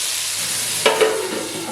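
Chopped tomatoes sauté in a hot pan with a steady, close sizzle, broken by two brief stirring scrapes just before the one-second mark, with no voices.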